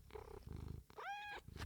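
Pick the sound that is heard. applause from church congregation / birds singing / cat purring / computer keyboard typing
cat purring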